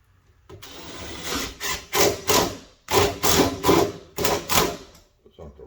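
A power drill drives screws into an interior door, a close motor whine in repeated short bursts, about nine pulses with brief pauses between them, after a quiet start.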